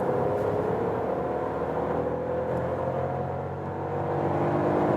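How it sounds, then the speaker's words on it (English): Turbo engine of a 2019 Skoda Fabia facelift pulling in second gear from 65, a steady rising drone with a low hum and some tire and wind noise from inside the cabin. "So let's see when we go to second gear and do some acceleration from 65"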